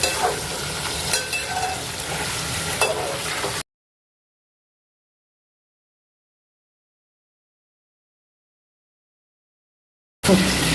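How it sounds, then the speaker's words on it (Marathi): Chicken sizzles in melted Amul butter in a pan as it is stirred. A close, steady frying hiss carries clicks and scrapes, then cuts to silence for several seconds before it briefly returns. "आपण आता ह्याला छान असं परतवून लालसर जरासं भाजून घेणार आहोत"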